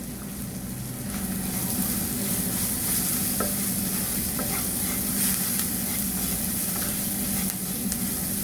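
Green chilli frying with turmeric, ginger and garlic paste for a dates pickle, a constant dense sizzle with occasional soft scrapes of stirring, close and steady throughout, no talking.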